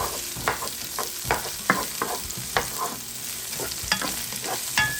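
Onions and garlic sizzling in a pan for a squash and string bean stir fry, with a steady fry hiss under repeated, rhythmic scrapes and clacks of a spatula stirring close by.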